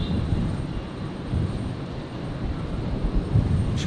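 An Airbus A321neo airliner landing at Brisbane Airport, heard as a steady broadband roar of engine and air noise that holds fairly constant throughout with no voices.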